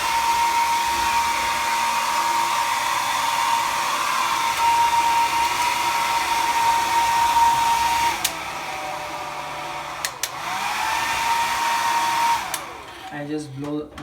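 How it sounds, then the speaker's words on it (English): A hair dryer blows steadily at close range, drying the edges and gaps of a bathtub or shower before recaulking, with a constant whine, then cuts out near the end, leaving a few clicks and handling noises. "I take the hair dryer and I just blow all the edges."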